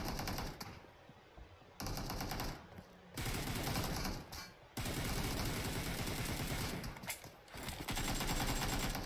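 Dense gunfire in a PUBG Mobile 1v1 team deathmatch, with rapid automatic bursts filling most of the stretch, broken by short gaps and heard loud and continuous without talk.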